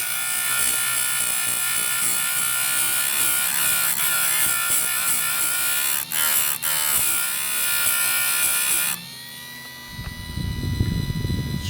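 Electric sharpener grinding a Stihl 025 chainsaw chain, giving a steady loud buzzing whine that changes abruptly near the end into a lower rough rumble.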